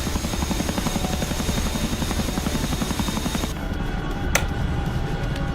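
Helicopter engine in a flight video game, a steady loud rotor drone with rhythmic thumping that carries on throughout, its upper hiss dropping away partway and one brief sharp click near the end.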